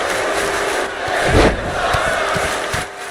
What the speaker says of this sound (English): Scarlett is revving this crowd up.